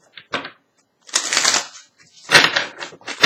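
Three bursts of crisp riffling and snapping, like a deck of cards being shuffled up close, separated by short pauses.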